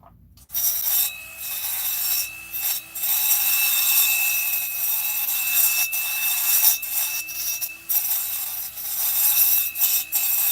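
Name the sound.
grinder used on Stihl 362 chainsaw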